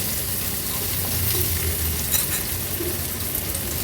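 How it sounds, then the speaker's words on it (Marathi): Chopped onion sizzles in oil in a kadhai over a low flame, with a continuous soft frying hiss and occasional light stirring noises. "कांदा थोडासा तेलावर परतून घेते"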